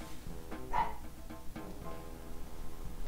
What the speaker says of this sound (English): Why is the dog barking?